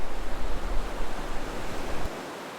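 Ocean surf at Surfside Beach washes and rumbles continuously, waves breaking in a broad hiss that eases off near the end, with no voices.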